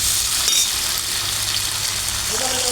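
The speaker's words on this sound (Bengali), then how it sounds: "ভালো করে ভেজে নিতে হবে আঙ্গুরটাকে, খুব লাল করে না" Grapes frying in a pan for chutney give a loud, continuous close sizzle with some stirring scrapes mixed in, and no voices.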